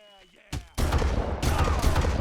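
Rapid gunfire rattles in the Far Cry video game as enemies shoot, with a sharp opening shot followed by dense, loud bursts of automatic fire that continue close and unbroken after a faint voice at the start.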